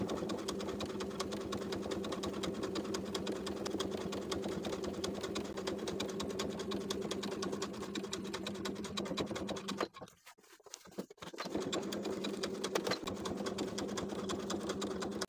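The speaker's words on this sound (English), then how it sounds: "Continue top stitching along the upper edge of the collar stand, as well as the entire upper and side edge of the collar piece." Home sewing machine top stitching the edges of a shirtdress collar and collar stand, a fast, steady mechanical whir that runs close and continuous, stops briefly for about a second, then resumes.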